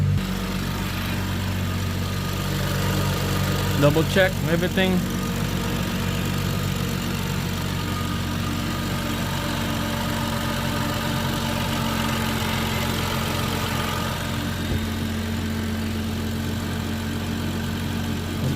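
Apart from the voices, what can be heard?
BMW 3.0L N55 engine idling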